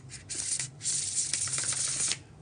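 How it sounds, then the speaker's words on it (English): Tarot card deck being bridge-shuffled, a dense papery riffling burst that stops briefly, resumes, then runs steadily for over a second before ending; close and clear, with no talking. "Y'all, the bridge shuffle."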